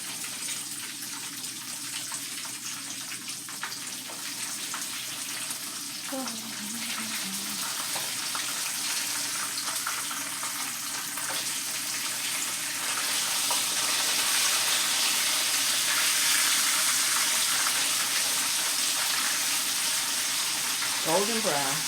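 Catfish frying in hot oil, a steady, fairly loud sizzle that swells louder after the fish is flipped, with a few brief higher tones over the hiss.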